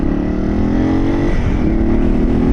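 Dirt bike engine droning loud and close while riding on a hot day, a steady buzzing note that dips briefly midway as the rider shifts or eases the throttle, then resumes, no voices.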